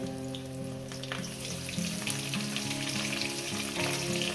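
Pointed gourd (potol) slices frying in oil with salt, a steady crackling sizzle with a few stirring scrapes, heard beneath a soft sustained musical tone.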